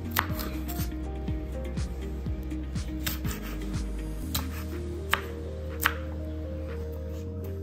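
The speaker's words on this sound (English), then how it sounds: "Chop your chili." A knife chops chili on a cutting board for a tuna pizza, making a run of quick, close taps that thin out to a few sharper knocks over a steady background hum.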